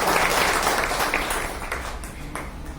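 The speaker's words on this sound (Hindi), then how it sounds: "एक बार आप सबके लिए तालियां।" Meeting audience at a chemist association gathering applauding in a steady, dense wash of clapping that fades slightly toward the end, with no talking over it.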